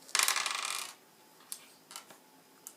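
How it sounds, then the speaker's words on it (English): A pair of dice tossed onto a table during a tabletop role-playing game, a bright rattling clatter for about a second followed by a few faint, scattered clicks as they settle, quiet and close. "So what you do is you roll the dice."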